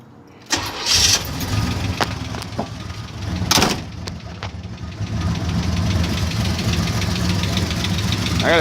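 A 1980 Chevy El Camino engine cranks and catches, then settles into a steady idle with sharp intermittent clicks and knocks from the torque converter, close and fairly loud.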